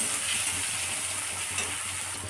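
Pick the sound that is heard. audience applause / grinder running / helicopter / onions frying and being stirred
onions frying and being stirred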